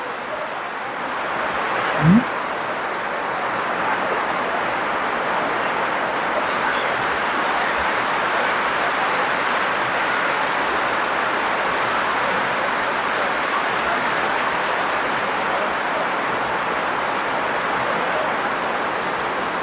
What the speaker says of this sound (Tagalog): Grabing ulan dito.